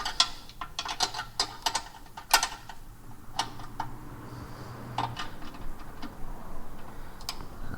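A ratchet tightens the bottom bolts of a rear differential brace on an Infiniti Q50/Q60, giving irregular bursts of sharp clicking pawl ticks with brief pauses between strokes, close and clear with no talk.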